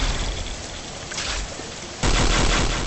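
Tiberium auto rifle firing in Command & Conquer Renegade, a steady stream of rapid shots over dense noisy game ambience that jumps louder and harsher for the final second.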